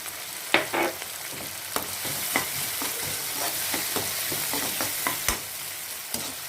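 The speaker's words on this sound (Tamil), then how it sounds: "இப்போ தக்காளி வெங்காயம் நல்லா வதங்கி வருது" Onions and tomatoes sauté in a pan for a spicy pasta sauce, a constant close sizzle broken by a dozen or so sharp clicks and scrapes of a stirring utensil, with no voices.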